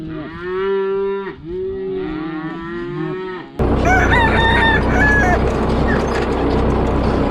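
Cattle moo loudly at night in long, low, wavering calls, heard close. Partway through, a rooster crows over them and a denser barnyard clamor takes over.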